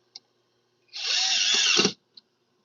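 A power drill drives self-driving screws into wood at a woodturning lathe setup, one steady whirring burst of about a second rising in load, then cutting off sharply with faint clicks before and after.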